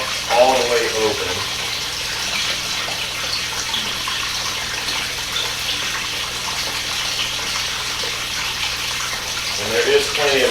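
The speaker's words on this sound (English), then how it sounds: "I do have that pump all the way open." A pond pump set wide open sends water rushing through filter media, a constant broadband gushing that holds steady throughout, with brief murmured speech at the start and end.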